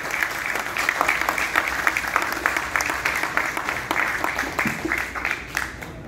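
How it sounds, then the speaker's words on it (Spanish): Audience applause for three finalist authors at the Altazor children's novel prize event, steady dense clapping from a mid-sized crowd lasting throughout with no break. "Yo quisiera que les brindemos un fuerte aplauso a estos tres autores."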